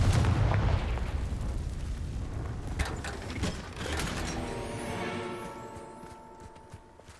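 A Confringo blasting spell from Hogwarts Legacy goes off with an explosive burst, followed by mechanical clanking and a rumbling blast that fades into a ringing tail.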